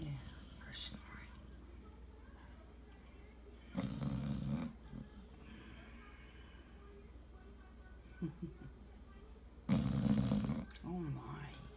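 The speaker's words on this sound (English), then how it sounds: "Yeah, her snoring." A pet snoring in bursts around 4 and 10 seconds, with soft, low, rough breaths, heard close against quiet room noise and a faint whispering voice.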